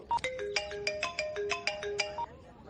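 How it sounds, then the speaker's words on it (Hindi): A melodic phone ringtone for an incoming call plays alone, a bright repeating tune of short tones in a steady rhythm, moderately loud and close. "भैया का फोन आ रहा है"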